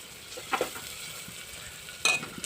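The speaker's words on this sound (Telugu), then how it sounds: "ఉల్లిపాయలు ఇవి బాగా యాగాలి గోల్డ్ కలర్లోకి" Onions with green chilli and mustard seeds fry in a pan at home, giving a soft, steady sizzle with a couple of sharper crackling bursts, close by and with no talking.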